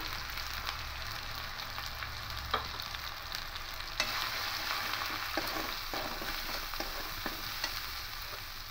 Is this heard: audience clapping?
no